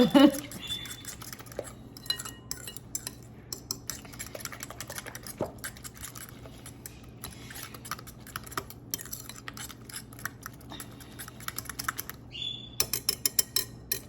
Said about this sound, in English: we're gonna mix this all together